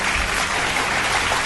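Applause from an audience celebrating a contest win, a short, dense burst of clapping that stays steady and fairly loud for its brief span, with no voices over it.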